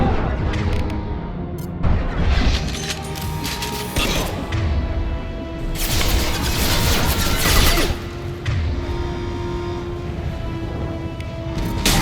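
Grenade blast in Mass Effect 2 on Insanity difficulty, a loud crash and boom followed by clattering debris and gunfire during a hectic firefight, with sustained noisy combat throughout.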